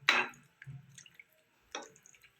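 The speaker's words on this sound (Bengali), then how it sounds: "এবার আমি জল দিয়ে দেবো।" Water is poured into a pan of cauliflower, potato and mixed winter vegetable curry in a few brief, close splashes separated by short pauses.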